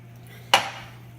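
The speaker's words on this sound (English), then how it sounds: "Just toss them around in the sauce." Chicken wings are tossed in Tabasco hot sauce in a bowl, heard as a single sharp, close clank of utensil or food against the bowl over quiet background hum.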